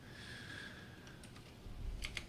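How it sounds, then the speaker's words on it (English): Fingers typing a search on a computer keyboard, a quiet, close patter of a few key clicks ending in a quick double tap, over a soft room hum without speech. "So if you go down here to PPT and then you type in www"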